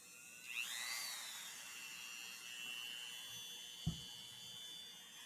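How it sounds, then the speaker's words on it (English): A Dremel rotary tool fitted with a cutting disc spins up with a high, thin whine that dips as the disc bites into the slot, then holds a steady buzzing drone with a single sharp knock near the end. "I've got a cutting disc on this Dremel, and I'm going to just make a small"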